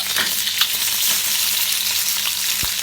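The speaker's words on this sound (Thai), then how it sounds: "เอาหมูสามชั้นนี่แหละ เนี่ย ลงไปคั่ว" Pork belly stir-fries in a wok over medium heat, a loud, dense, continuous sizzle with scattered spatter pops and the occasional scrape of the stirring tool.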